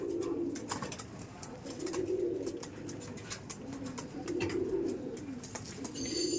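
Kaldom pigeons in a loft in South 24 Parganas coo steadily, a soft rolling, repeated throb that rises and falls in waves, near and clear over faint background ticks and chirps.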